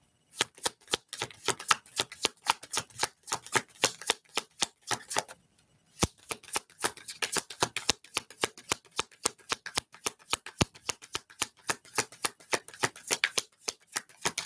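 A full deck of tarot cards is riffle-shuffled over and over, each pass a rapid run of crisp paper flutters in a steady rhythm, close and fairly quiet, with a short pause midway.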